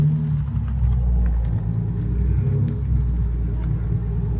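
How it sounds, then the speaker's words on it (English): A Toyota Supra rolls past at a Thursday night car meet in a Cabela's lot, its engine a steady, deep, close rumble with a faint rise in revs and no talk over it. "we got Mikey driving a Carry Supra"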